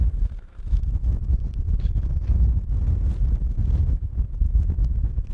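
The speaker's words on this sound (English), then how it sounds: "with that wind, I don't know" Strong gusty wind buffets the microphone on a seaside golf course, a loud continuous low rumble with swelling gusts and no talk.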